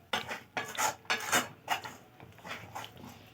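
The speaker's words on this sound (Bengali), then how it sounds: "বাদামের গুঁড়োগুলো দেওয়ার পরে সব একত্রে একসঙ্গে সবগুলোকে অনবরত নাড়তে থাকবো" A flattened-rice sandesh mixture with syrup and nut powder is stirred continuously in a pan. Repeated scraping strokes sound one after another, close and fairly distinct, with no voices.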